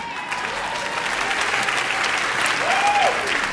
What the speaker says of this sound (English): Let's have a big round of applause for me